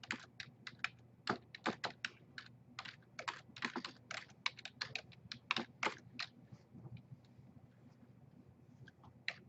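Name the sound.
typing on a computer keyboard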